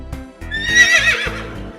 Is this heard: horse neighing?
yes